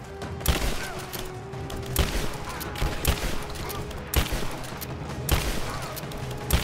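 Repeated heavy blasts of shotgun fire in the video game Rise of the Tomb Raider, loud booming shots about once a second over a dense, noisy combat background.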